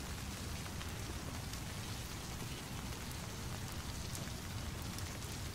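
Steady rain falling outdoors, a dense, even hiss of drops spattering on surfaces that stays constant and fairly close, with no voices.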